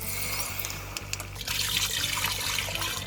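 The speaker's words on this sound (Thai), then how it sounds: "ใส่น้ำเปล่าครับ" Plain water poured into a pot holding pork leg for Thai braised pork: a close, steady splashing rush of liquid over a low hum, growing fuller midway, with no talking.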